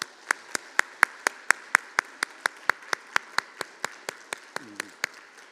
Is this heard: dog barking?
no